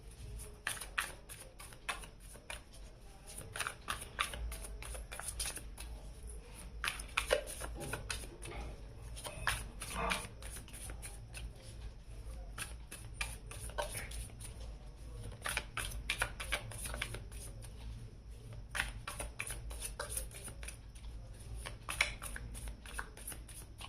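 Tarot cards shuffled repeatedly by hand, a steady run of crisp riffling bursts and soft slaps lasting throughout, close and fairly quiet with a low background hum.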